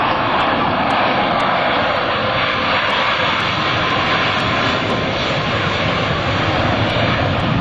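F/A-18C Hornet jets run up at military power on launch, a loud, continuous, dense jet engine roar that holds steady and close with no break and no voices.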